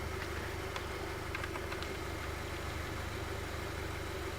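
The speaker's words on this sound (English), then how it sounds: "Here's the new motor rotating properly." A newly installed replacement recirculation flap motor in a VW such as a Golf, Jetta, GTI or Passat runs steadily, giving a low continuous hum and faint whir with a few light clicks and no talking.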